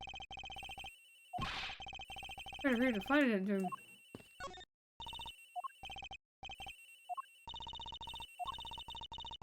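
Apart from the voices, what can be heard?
cell phone ringing in Ace Attorney Investigations video game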